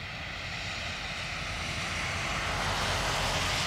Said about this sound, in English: For the Widerøe E295 departure, and it was a mega Wookie.